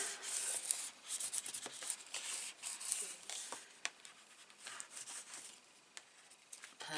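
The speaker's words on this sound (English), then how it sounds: "Give that a rub down." Close, soft rubbing strokes of a hand pressing a photo mat onto a page of a vintage baby girl scrapbook album, a steady papery friction with a few small taps and scuffs, no talking.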